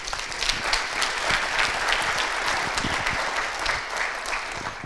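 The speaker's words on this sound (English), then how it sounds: "Please give them a round of applause." Steady, dense applause from a conference audience after a panel discussion on BIM team roles, filling the whole stretch evenly at close range with no talk over it.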